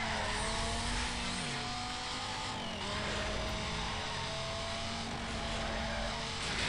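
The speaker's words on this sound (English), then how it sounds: "Oh god, yeah, this thing drifts. It's good though, it's a good drift." A car drifting in the 2005 Need for Speed Most Wanted video game, a continuous loud engine drone with layered whine and a sliding tire hiss, steady with no talking.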